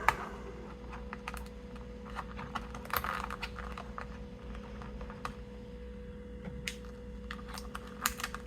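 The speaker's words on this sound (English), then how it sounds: "I'll just zip tie it up." Zip ties ratcheting shut around bundled cables inside a pinball cabinet mod, heard as a run of quick, close clicking bursts over a steady low hum.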